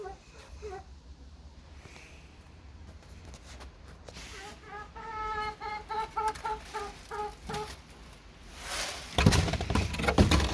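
Chickens cluck in short bursts at evening feeding, close by, with scattered rustling and a louder scuffle near the end as a rooster charges in; a person talks intermittently.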